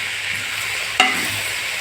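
Onions and banana flower frying in a pan, a steady close sizzle broken by one sharp stirring clatter midway.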